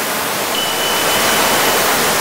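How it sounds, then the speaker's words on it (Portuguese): A waterfall near a cave rushes as a dense, steady roar of falling water, loud and unbroken throughout. "a cachoeira é muito linda também. Cachoeira lá no fundo"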